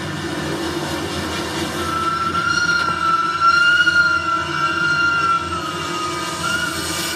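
A train rumbles steadily along the rails, its wheels squealing at a high, sustained pitch over the heavy, continuous roar.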